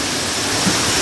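Heavy rain-fed water cascades like small waterfalls inside an underground river cave, a steady, dense, full-band rush with no pauses, loud and enveloping throughout.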